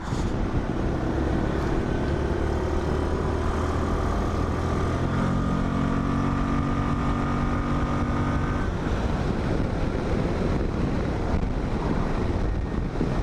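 A SYM ADX TG 400 scooter's engine drones steadily while riding, buried under loud, constant wind rush, with rising and falling engine tones in the middle as speed shifts; no talk.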